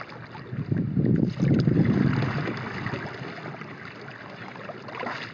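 A Crescent kayak paddles across a lake. Soft splashes and water swirls rise and fall under rushing wind noise on the microphone, loudest early on, with no speech.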